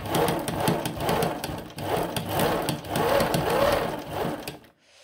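An old sewing machine stitches fabric in a steady, rapid mechanical whir that rises and falls in cycles, close and fairly quiet, then stops abruptly at the end.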